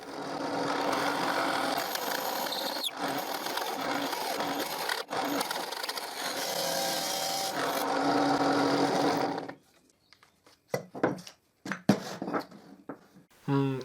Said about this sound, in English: I will drill with the perimeter of the hole saw in the mark I made before.